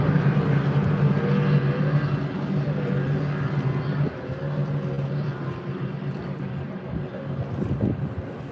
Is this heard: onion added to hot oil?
no